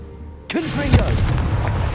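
A Confringo fire spell in Hogwarts Legacy bursts with a sudden loud boom and rumbling blast that fades into crackling fire, following a short spoken incantation.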